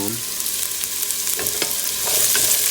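Onions sauté in a pan for fresh lasagne, an up-close hiss and crackle with a few clicks of a utensil against the pan, growing slightly louder toward the end.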